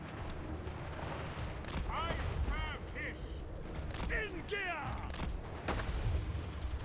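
Scattered gunshots and volleys crackle through a strategy game battle, with chirping effects in the middle, under a fairly constant background of battlefield noise and some speech.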